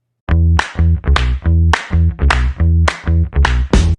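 Early demo instrumental of a children's song: loud, bright synth notes in a bouncy staccato rhythm, with short chopped chords repeating about every half second and no voice.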